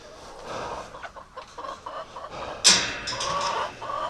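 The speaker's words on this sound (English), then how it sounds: "Oh, look at that chicken." A hen near Muscovy ducks clucks in a string of short, uneven calls at moderate distance, ending with one sharper, louder squawk followed by quieter clucking.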